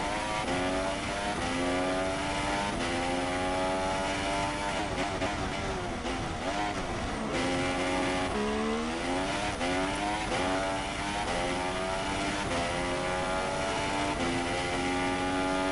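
Formula race car in a sim racing endurance event at Bahrain, engine screaming flat out with rising and falling revs through gear changes, loud and continuous with no talk.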